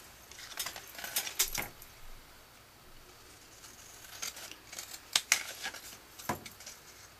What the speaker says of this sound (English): So I'm just cutting on the score lines.